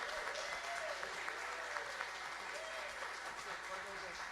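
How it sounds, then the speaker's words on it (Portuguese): Applause at a diaconal ordination ceremony after a thesis approval, a steady dense clapping sustained throughout, with a faint voice speaking beneath it. "Então, salva de palmas para ele."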